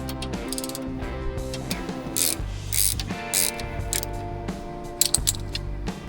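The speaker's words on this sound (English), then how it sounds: "we got to undo the lock nut. That's going to be a 15 millimeter." A 15 mm wrench works the drag link lock nut on a Jeep Wrangler JL, making close, quiet metallic ratcheting clicks and scrapes in short bursts, with a sharp tap near the end and no talking.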